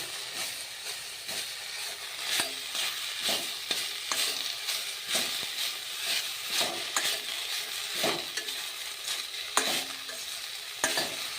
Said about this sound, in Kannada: ಒಂದು ಸ್ಪೂನ್ ಎಣ್ಣೆ ಹುರಿಬೇಕ್ರಿ